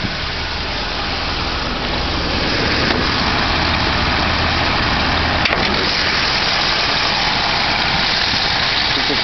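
A 1936 car's engine idling with a Motorcraft 2100 carburetor, a steady loud rumbling idle heard up close with no talking over it.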